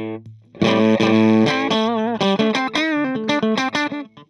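Electric guitar played through a vintage effects pedal on a clean tone, a sustained chord followed by a quick run of picked notes with a shimmering, chorus-like warble, loud and close with no talking.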